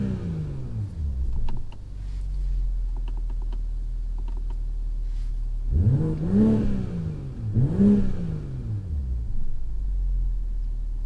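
A 2021 BMW M340i G20 engine idles with a low rumble, heard with the windows down, then revs up twice in quick surges that rise and fall before settling back to idle.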